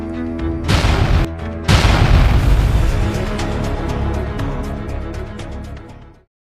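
Loud booming explosion sound effects, two heavy bursts close together followed by a long rumbling, crackling decay that fades out over several seconds.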